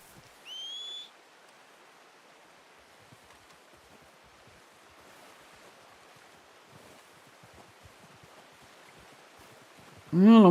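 A player whistles for a horse in the video game Red Dead Redemption 2: one short, high whistle near the start, then a long stretch of quiet outdoor wind and ambience before a loud tonal sound cuts in at the end.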